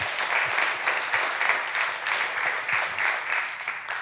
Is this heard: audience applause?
yes